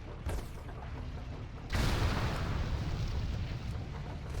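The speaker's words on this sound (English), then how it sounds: "Time to switch to the other cannon and sink them before it is too late." Cannon fire during a ship battle in World of Warcraft: a sharp blast followed by a heavy rumbling boom that rolls on loudly, with a few fainter impacts after it and no talk.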